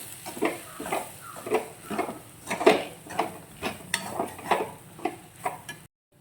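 A spoon stirs roasted semolina with vegetables in a pan for rava kichadi, scraping in a steady rhythm of about a dozen close scrapes and taps against the metal, with light frying underneath.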